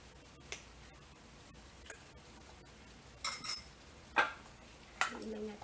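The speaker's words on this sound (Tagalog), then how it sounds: "Haluin lang natin siya." A spoon stirs sauce made with kecap manis in a bowl for baked chicken, giving a few scattered, faint clinks and scrapes against the bowl with quiet pauses between them.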